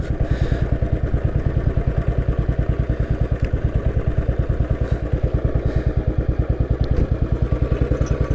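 A Royal Enfield Bullet 500 single-cylinder motorcycle idles close by with a steady, loud, rapid thumping beat that holds throughout while it is eased into a parking spot, with faint clatter over the pulse.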